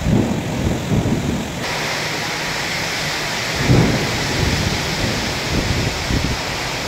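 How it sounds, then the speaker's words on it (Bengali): Steady rain pours down with rolling thunder in a village during a storm, strong gusts of wind sweeping through the downpour and swelling now and then; no one speaks. "এই যে দেখুন বলতে বলতে এদিকে বৃষ্টিও শুরু হয়ে গেছে"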